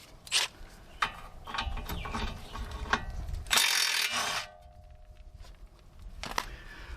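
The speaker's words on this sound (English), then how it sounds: "then we'll go ahead and loosen this down here. And this is just going to be an 18 mil." A ratchet loosens an 18 mm tie rod end nut on a 2010–2016 Buick LaCrosse or Chevy Impala, with quick bursts of close, sharp metallic clicking separated by short pauses and a louder run of rapid clicks near the middle.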